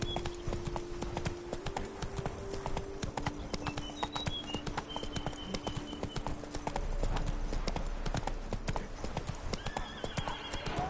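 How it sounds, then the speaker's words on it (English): A horse galloping in The Witcher 3 video game, rapid continuous clip-clop of hooves with a brief neigh, set against steady game ambience and music. "Run, Roach"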